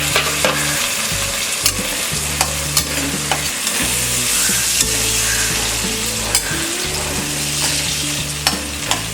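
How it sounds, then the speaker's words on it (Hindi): Carrots and green peas fry in a pan with a steady, close sizzle, broken by repeated scraping and stirring knocks from a spoon, with no talking. "कैरेट ग्रीन पीस अच्छी तरह से फ्राई हो गया है।"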